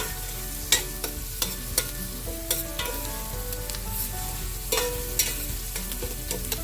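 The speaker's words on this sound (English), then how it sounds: "Onions are cooking well in this pot" Onions fry in heated olive oil in a pot for a beef macaroni dish, a steady close sizzle with occasional clicks of a utensil stirring, no talk.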